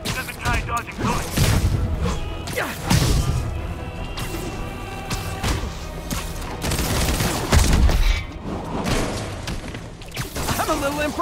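Bursts of gunfire in the video game Marvel's Spider-Man, with repeated shots, whooshes and crashing impacts mixed with game voices calling out across the scene.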